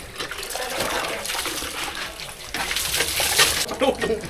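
Water gushes and splashes in uneven surges, louder toward the end, as water is pumped out of a hand pump and poured.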